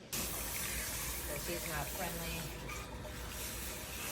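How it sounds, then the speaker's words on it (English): Water from a pressure release nozzle running into a tub during a cat's bath, a steady, close hiss of spray that fills the whole stretch, with a voice faintly underneath. "I'm using a pressure release nozzle for my water"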